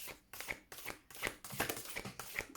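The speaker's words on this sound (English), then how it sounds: "Just a bit of a clumsy shuffle." Someone clumsily shuffles a deck of tarot-style playing cards in small hands, giving a run of soft irregular riffles and flicks close by with no talking.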